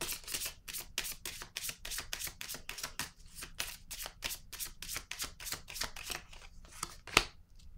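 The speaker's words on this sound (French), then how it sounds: "Je vais déposer une carte ici." Tarot cards handled on a table produce a rapid, steady run of crisp riffling slaps, close and fairly quiet, ending with a single sharper snap.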